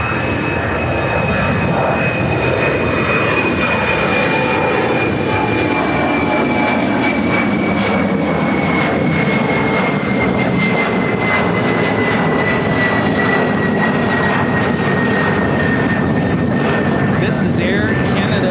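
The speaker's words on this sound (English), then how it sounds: "This is Air Canada Express, operated by Jazz Aviation, Flight 960, taking off to Montreal on the E-175" An Air Canada Express Embraer E-175 jet, operated by Jazz Aviation, takes off from Chicago O'Hare with a loud, sustained engine roar and a high whine that slowly falls in pitch, close by and continuous throughout.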